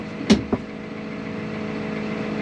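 A tractor engine runs at a steady idle, a constant low droning hum with two brief sharp knocks or clunks early on, close and even.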